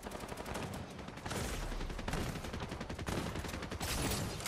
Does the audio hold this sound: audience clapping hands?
no